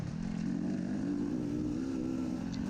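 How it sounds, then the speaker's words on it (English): Snowmobile engine holding a steady, loud drone with a slight rise in revs during a Super Senior snocross race at Whispering Willow, continuous and close throughout with no voices. "So now I'm revving my engine again"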